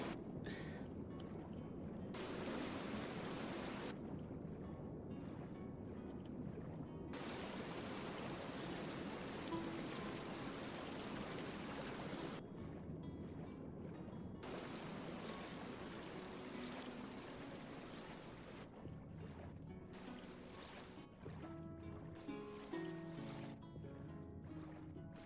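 Waterfalls in an open-air game world, a steady rushing wash of falling water that runs without pause beneath shifting background music.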